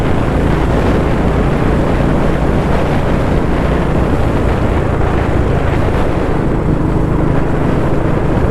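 A BS4 Royal Enfield Classic 350 with a modified silencer exhaust roars loudly and steadily, a thick, unbroken engine rumble filling the whole stretch with no voices.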